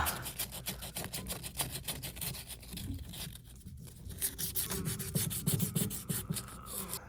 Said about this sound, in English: gonna sand this down really good